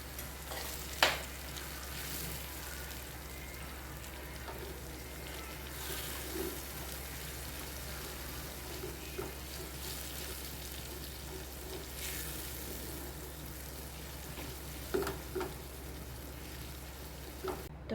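Soaked chili and garlic frying in a pan while being stirred: a continuous soft sizzle over a steady low hum, with occasional spoon scrapes and taps against the pan.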